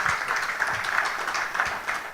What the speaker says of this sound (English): I believe Honorable Roland Roy deserves a better round of applause than that, right?